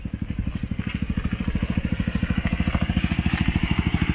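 Small single-cylinder mini buggy engine running with a rapid, even putter that builds slightly in loudness, close and steady, with no talk over it.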